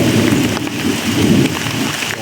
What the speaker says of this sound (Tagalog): Grabe, sobrang lakas ng ulan mga tol.